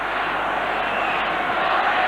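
Some 40,000 spectators at the Sydney Football Stadium cheer their side during a 1989 State of Origin rugby league game, a loud, continuous roar of crowd noise sustained evenly from start to finish.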